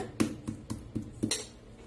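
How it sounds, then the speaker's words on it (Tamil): Thin pieces of chicken breast pounded flat on a board, six evenly spaced dull thuds with a slight clatter, fairly close and moderately loud, followed by a brief trailing rattle. "இந்த மாதிரி தட்டி கொஞ்சம் சாஃப்ட் ஆன் பண்ணிக்கோங்க"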